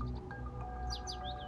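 A pet bird chirps a few quick, bright notes in a small cluster over a steady low background hum, with no voices.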